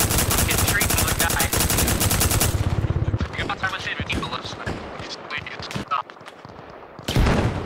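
Rapid automatic fire from a BTR armored vehicle in Arma Reforger, a dense, loud burst that cuts off, followed by scattered distant shots and impacts, then another sharp burst near the end.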